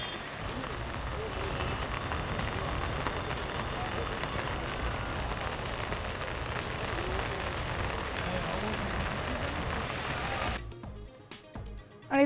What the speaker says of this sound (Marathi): आळंदीत मुसळधार पाऊस।